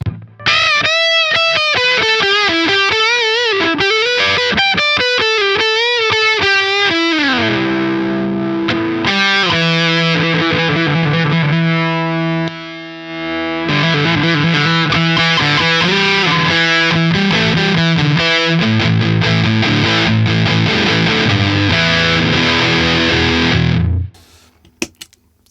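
A heavily distorted, fuzzy electric guitar through a fuzz pedal with boost engaged plays loud sustained chords and bending notes, thick and saturated, then cuts off abruptly near the end.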